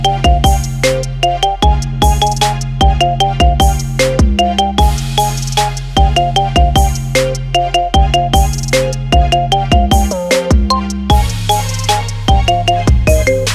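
An iPhone ringtone done as a marimba remix of the Fate of the Furious theme, with bright mallet notes over a driving bass line in a loud, steady looping rhythm and no voices.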